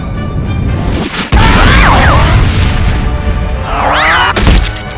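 A bomb goes off in a video game with a loud booming blast, followed by dense crashing, rattling debris and warbling synthetic tones over continuous game music and effects.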